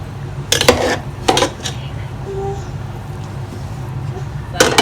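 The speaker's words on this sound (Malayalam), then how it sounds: "ഇനി ഇതൊന്ന് നമുക്ക് കംപ്ലീറ്റ് ചോറൊന്ന് മിക്സ് ചെയ്ത് കൊടുക്കാം" Ghee, oil and masala being mixed through fish biryani rice in a pot, with repeated metal scraping and clinks of a spoon against the pot in short bursts over a low steady background.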